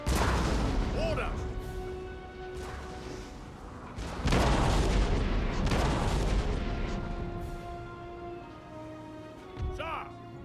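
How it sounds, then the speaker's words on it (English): Cannon artillery in the Napoleon Total War video game booms in heavy, rumbling blasts over continuous battle noise and distant clatter, with a voice speaking throughout. "Let's get the cannon to fire away."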